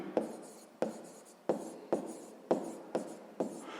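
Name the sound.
writing out an equation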